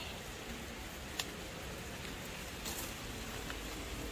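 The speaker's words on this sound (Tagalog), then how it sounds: "Kung kailan umulan, diba?" Rain falling during a typhoon in the Philippines, a steady, even wash of soft hiss with faint scattered drop ticks, continuous and fairly quiet throughout, with no talking.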